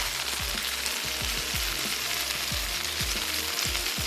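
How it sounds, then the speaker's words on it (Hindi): Egg yolks frying together in a frying pan, with a steady, dense sizzle throughout and low repeated thumps underneath, loud and close. "सारे एग योक्स हम एक साथ फ्राई कर लेंगे"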